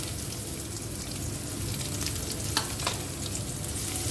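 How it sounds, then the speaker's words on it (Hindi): Finely chopped onions with green chilli and garlic sizzle steadily in a hot pan, a continuous close frying hiss with a couple of brief stirring clicks near the end, no voices. "अब इसे 1-2 मिनट के लिए इसे भून लेते हैं।"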